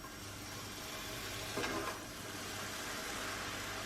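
A buttered cheese toastie sizzles steadily and quietly in a frying pan, a soft, even hiss with a brief louder flare partway through as it is pressed down.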